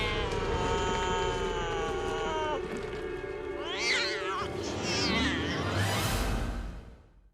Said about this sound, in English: A zombie cat!